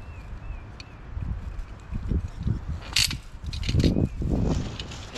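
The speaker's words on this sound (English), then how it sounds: "so now let's run our cord through our rope puller here" A rope puller ratchet draws cord through for tree work, giving a series of close mechanical clicks and pawl ratcheting with low rumbling tugs, growing busier toward the end.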